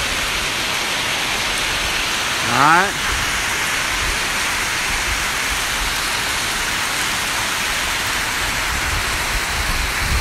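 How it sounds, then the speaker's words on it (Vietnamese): Heavy rain pours in a steady, dense hiss that fills the whole stretch without letup, with a single short spoken word near the start. "Mưa quá anh em ạ."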